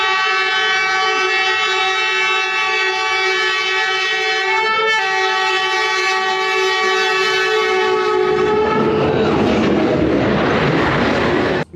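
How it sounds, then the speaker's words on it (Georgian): A train runs through the middle of a residential quarter in Hanoi, Vietnam, its horn blaring in one long, loud, sustained blast before the heavy rumble of the passing carriages takes over. "სადაც დასახლებული კვარტალის შუაგულში მატარებელი მოძრაობს."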